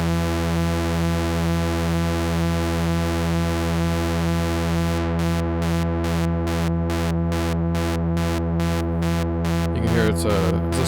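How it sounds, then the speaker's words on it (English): Behringer K-2 synthesizer holding a steady harmonic-rich tone, then a square-wave modulation chops it into a regular on-off pulsing, loud and alone without any voice. "you can hear it's a square wave"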